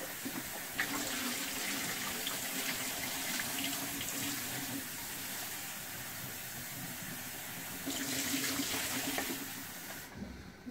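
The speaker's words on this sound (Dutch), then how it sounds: "Beetje koud water in." Cold water pours steadily from a kitchen tap onto boiled eggs in a pan in a continuous rushing hiss, close by, swelling slightly near the end before cutting off.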